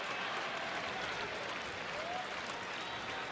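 A baseball stadium crowd at an Oakland at Texas night game claps and cheers in a dense, steady roar that fills the whole moment without any break.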